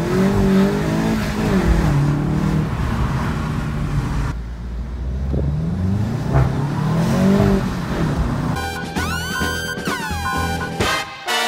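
A Volkswagen GTI with a new exhaust launches hard, its engine revving and climbing through the gears close and loud, ending in a burst of high whining tones.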